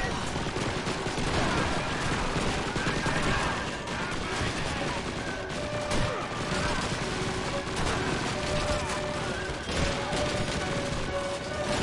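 Dense gunfire from the video game Call of Duty 2 crackles nonstop, rapid bursts and shots layered over a busy battle din, with voices mixed in.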